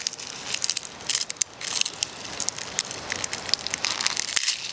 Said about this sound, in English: I am going to peel some of the skin off, and you can just let it fall into your bed